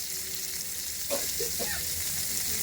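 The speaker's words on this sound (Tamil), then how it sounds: "ஆட் பண்ணிட்டு அதை நல்லா வதக்கிக்கலாம்." Small shallots sauté in a pan with dried red chillies, a soft continuous sizzle with a few brief stirring scrapes partway through, fairly quiet and close, with no talking.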